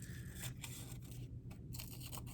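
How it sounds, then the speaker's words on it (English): Scissors cutting paper close up, quiet rhythmic snips and rustles repeating a few times over a low background hum. "I'm using scissors just to speed things up a little bit."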